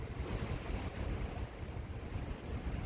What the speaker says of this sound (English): the wind's really kicking up.